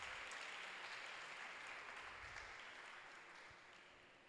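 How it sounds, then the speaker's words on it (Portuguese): A church congregation claps for one another during a Portuguese-language service, a steady, distant-sounding wash of applause that slowly tapers toward the end. "Aplauda esse irmão que está perto de você."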